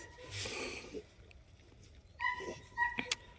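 Dog barking and whimpering nearby in a home kennel setting: a few sharp yips and barks, clustered toward the end, with quieter whines and snorts between them.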